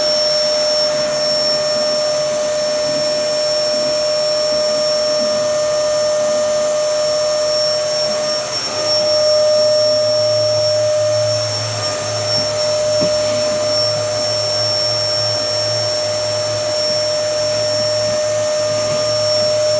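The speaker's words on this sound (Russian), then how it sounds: "Он решил попылесосить." A household vacuum cleaner, pushed by a child in a home room, runs continuously with a loud, steady whine and drone. The pitch and level shift only slightly over the whole stretch.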